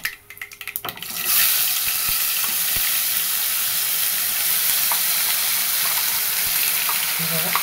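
After a few clinks, a loud sizzle bursts out as raw ground onion paste hits hot oil, then hisses steadily with occasional faint stirring clicks.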